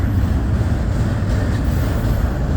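A Norfolk Southern freight train with a DPU locomotive rolls past near the tracks north of Findlay, Ohio, a loud, continuous low rumble of wagons and wheels that holds steady throughout, without speech.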